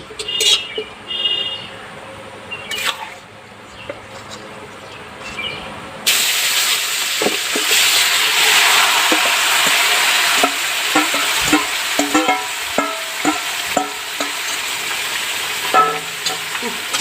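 Meat marinated for eight hours is dropped into a pan with dried red chillies over a wood fire and bursts into a loud, steady sizzle, with repeated scraping stirs over several seconds after a quieter start.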